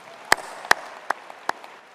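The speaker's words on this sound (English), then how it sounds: "Let's give them a round of applause." Five or six sharp, widely spaced claps ring out in a slow, uneven rhythm at an honors college medals ceremony, fairly close, with a faint room hum between them.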